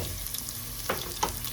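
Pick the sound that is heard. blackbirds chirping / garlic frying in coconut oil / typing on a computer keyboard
garlic frying in coconut oil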